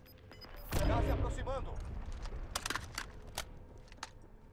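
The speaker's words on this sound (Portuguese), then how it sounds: "tá tendo tiro pra lá ainda" A burst of gunfire erupts in the Call of Duty: Warzone video game, followed by scattered sharp shots and clicks, with a player talking over the action.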